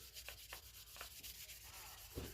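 Steady wet sanding with 1000 grit sandpaper, a continuous rubbing scrape with a few brighter strokes standing out, close up and fairly quiet, with no voices.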